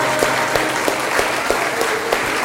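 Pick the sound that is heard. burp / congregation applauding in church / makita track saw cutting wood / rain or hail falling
congregation applauding in church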